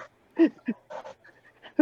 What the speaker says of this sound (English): Who's got the dog in the background?